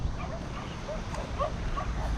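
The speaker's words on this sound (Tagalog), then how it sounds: "Doon po natin naririnig yung mga aso eh." Faint dogs bark and yelp in the distance, scattered short calls over a low background rumble.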